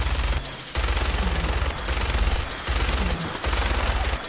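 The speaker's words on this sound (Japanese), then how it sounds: "まあ、バーチバーンのミニガンですからね" Vertibird-mounted minigun firing in Fallout 4, a loud, close, continuous roar of rapid shots broken by a few brief pauses into long sustained bursts, with no voices over it.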